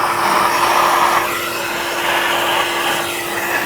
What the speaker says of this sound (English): take a vacuum or whatever you've got and make sure you get all the crud out of here